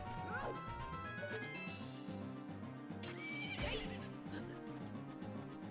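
A horse whinnies in the Zelda: Ocarina of Time randomizer game, a short rising neigh standing out over looping game music and a chirping effect.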